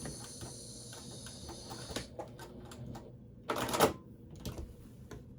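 A sewing machine backstitches on a baby quilt, with short bursts of rapid needle clatter close by, some pauses, and a louder run near the end.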